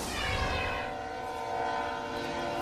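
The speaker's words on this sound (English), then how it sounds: "we also have a train going by, so we apologize about that" A train rumbles steadily past a weekend local newscast location after storm damage, its sustained roar and tonal horn-like hum holding loud and close throughout with no speech.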